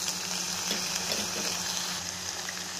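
Chopped ginger pieces frying in hot oil with chillies, urad dal and mustard seeds for tamarind rice, a steady close sizzle with faint crackles throughout and no talking.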